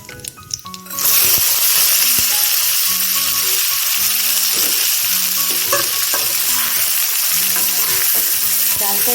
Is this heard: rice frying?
yes